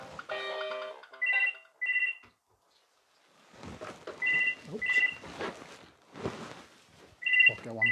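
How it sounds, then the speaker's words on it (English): A mobile phone ringtone plays in repeated short melodic bursts, loud and close, between stretches of someone talking and brief pauses. "just bear with me while I turn that phone off"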